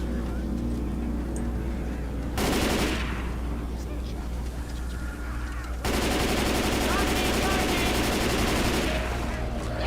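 In Alan Wake, sustained bursts of automatic gunfire rattle toward the player, two loud, dense volleys over a constant low engine-like rumble, with some voice faintly present.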